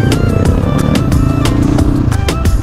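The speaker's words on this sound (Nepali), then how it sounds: "दाई बाइक झिक्दै हुनुहुन्छ" A dirt motorcycle is brought out for a hill ride, its engine running loud and close with a steady, throbbing drone and a little mechanical clatter, without any talking.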